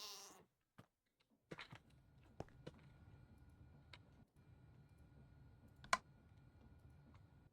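A goat in the Minecraft FTB Skies Expert modpack bleats in short, sparse calls among quiet clicks and ticks from game machinery, with a few sharper taps standing out against a low background hum.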